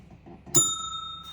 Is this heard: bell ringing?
yes